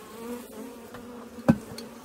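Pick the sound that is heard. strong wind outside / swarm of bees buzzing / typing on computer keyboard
swarm of bees buzzing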